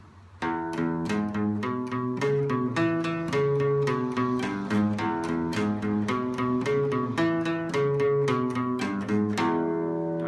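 A fast, driving guitar boogie riff at full speed, a steady rhythmic pattern of repeated notes, played alone and evenly loud throughout.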